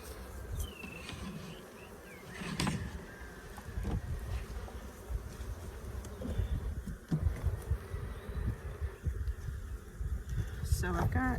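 Honeybees buzz at an open ten-frame hive during spring beekeeping in southeast Alabama, a steady insect drone with handling knocks and brief talk over it.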